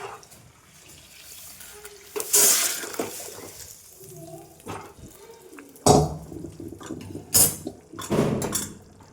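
Goat meat curry is scraped and poured from a pot into a bowl, giving a few loud metallic clinks and wet splashes spread across quiet stretches.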